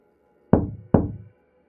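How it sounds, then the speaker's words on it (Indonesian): Two heavy, loud knocks on a door, evenly spaced, each ringing out briefly before silence. "Ia mencoba mengetuk lagi, tapi kali ini lebih keras."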